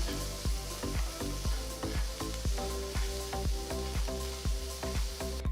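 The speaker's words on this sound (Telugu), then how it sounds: "తర్వాత ఇందులో చిన్నగా తరిగిన ఒక అల్లం ముక్క చిన్నగా తరిగిన రెండు పచ్చిమిరపకాయలు చిన్నగా తరిగిన ఒక మీడియం సైజ్ ఉల్లిపాయ వేసి ఒక నిమిషం పాటు వేయించాలి" Chopped ginger, green chillies and a medium onion sizzle in oil in a pan, a steady close frying hiss broken by regular rhythmic scraping strokes of a spatula, with no talking.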